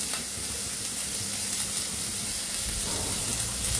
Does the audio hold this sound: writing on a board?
no